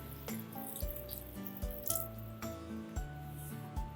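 Water pours steadily into a pot of dal and potato curry, splashing under a tonal musical backdrop with rhythmic beats.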